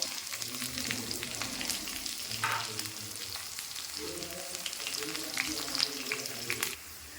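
Continuous sizzling from a pan as chopped shallots fry crisp in coconut oil, with scattered stirring clicks and a low voice murmuring intermittently underneath.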